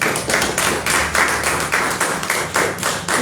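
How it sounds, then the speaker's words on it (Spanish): Audience applause for a colleague at a magazine presentation event, a short burst of hand claps with uneven rhythm, fairly close and clear, with no talking over it. "Un aplauso para nuestra compañera."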